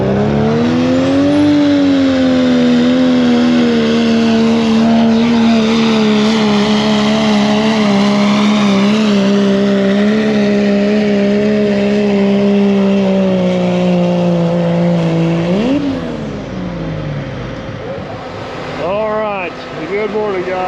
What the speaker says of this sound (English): So we'll watch one more truck pull